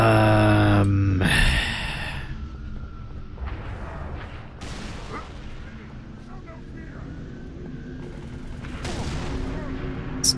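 Gunfire and artillery-style blasts from the Halo 3: ODST battle while defending a ridge against a Wraith, opening with a loud burst that gives way to scattered, mid-distance shots and booms over a rumbling battlefield bed.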